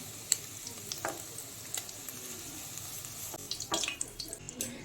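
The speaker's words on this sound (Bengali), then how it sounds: "এইভাবে সব পনিরগুলোকে ভেজে নেব" Paneer pieces frying in hot oil, a steady soft sizzle broken by scattered pops and spoon-stirring clatter, close and moderately quiet.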